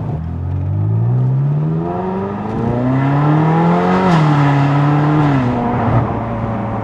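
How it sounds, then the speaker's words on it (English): A Ferrari California's 430-derived V8 revs up loudly and close, its pitch climbing steadily, holding high, then dropping and rising again in a sustained, continuous roar with no talk. "Pretty good sounding engine. I mean, it is the 430 engine."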